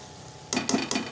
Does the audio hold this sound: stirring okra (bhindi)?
yes